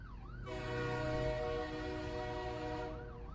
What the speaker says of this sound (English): Train started to leave to the last station just after he left.